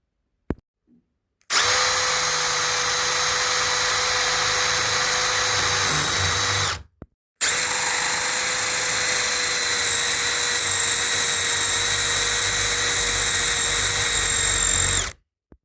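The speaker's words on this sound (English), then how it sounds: "So that's the hole drilled" A power drill whines loudly in two long sustained bursts while boring a hole in a bedroom door for a security bolt lock, with a brief pause between, its high-pitched motor tone steady throughout.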